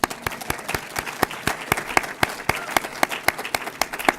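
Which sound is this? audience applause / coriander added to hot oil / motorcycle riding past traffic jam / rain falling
audience applause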